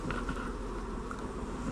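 Honeybees hum continuously around an open hive during a demaree split, a close, steady buzz with faint wind noise and no voices.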